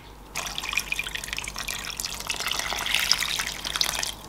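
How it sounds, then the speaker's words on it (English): Water pours over salted shrimp shells in a pot to make stock, a steady trickling splash with dripping patters that swells slightly louder midway, close up and with no speech. "I'm going to add water to cover it up"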